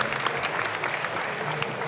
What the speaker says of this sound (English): please give Phil a round of applause